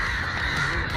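A crow cawing loudly and close, a harsh rasping call sustained through the short moment, with a noisy outdoor background and no talk.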